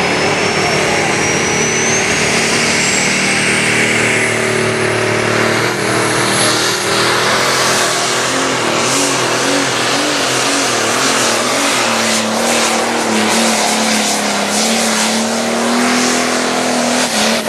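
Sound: light pro stock pulling tractor engine during pull

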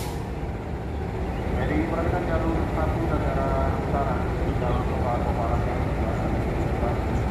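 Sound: Argo Parahyangan train passing through Purwakarta station

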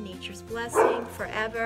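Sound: dogs barking

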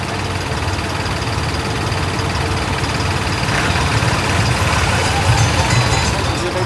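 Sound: tractor engine running

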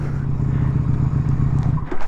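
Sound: motorcycle engine stalling

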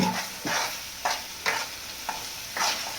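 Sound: desi ghee sizzling in pan for palak paneer

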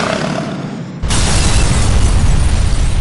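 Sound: explosions from weapons fire in video game Grand Theft Auto IV

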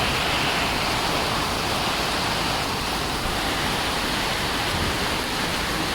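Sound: heavy rain

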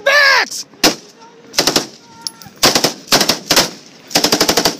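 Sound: gunfire in combat in Afghanistan

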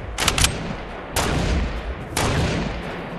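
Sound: gunfire in the video game Fortnite

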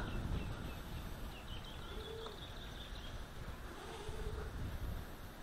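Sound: wind blowing

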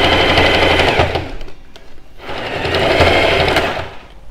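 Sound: sewing machine stitching a seam on a blouse

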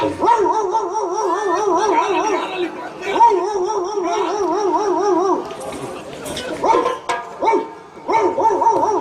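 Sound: performer imitating a dog barking

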